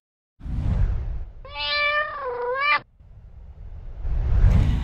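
Pet cat Sally giving one clear, drawn-out meow, close and loud, set between stretches of low rumbling background noise.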